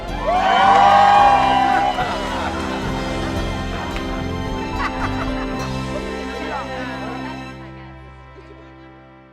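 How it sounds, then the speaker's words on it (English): A live event crowd cheering and whooping loudly, peaking early then slowly fading as the noise dies away. "cheer louder if you're having fun"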